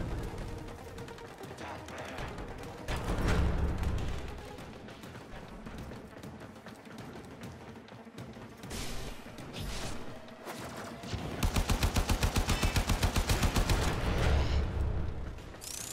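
Gunfire in the video game Warframe comes in bursts of sharp shots and booms, ending in a rapid stuttering volley, mixed with other game effects.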